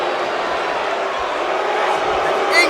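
A video game wrestling crowd roars steadily in disapproval, a dense continuous wash of boos and shouting that holds at a loud, even level throughout.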